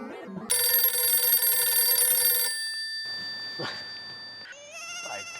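A telephone ringtone in a Hindi sitcom scene: a loud, steady electronic ring lasts about two seconds, then softer, higher tones follow over a faint room background.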